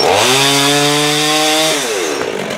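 A Holzfforma chainsaw revs hard and close, its engine note climbing in a steady whine before dropping sharply near the end as the throttle is released.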